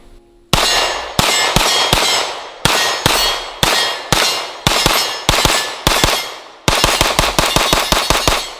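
A CMMG Banshee AR-9 radial-delayed 9mm rifle fires a string of sharp, loud single shots at an uneven pace, then a fast rapid run of shots near the end, each crack ringing with a metallic clang.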